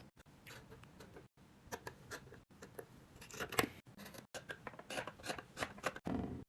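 Scissors cutting a t-shirt along the outside of its seam, a soft, close series of snips and fabric rustles broken by brief pauses, fairly faint.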